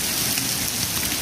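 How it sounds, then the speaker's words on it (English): Steady heavy rain pours down on a surface, a dense continuous hiss with no voices, filling the whole short stretch. "It's really raining."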